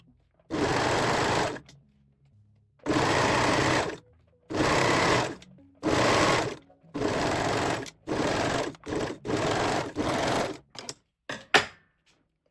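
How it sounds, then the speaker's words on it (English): A serger stitches elastic into a swimwear strap in a run of steady mechanical bursts, each lasting about a second and separated by short pauses, ending in a few quicker stutters. No one speaks. "So I will just sew it with the serger."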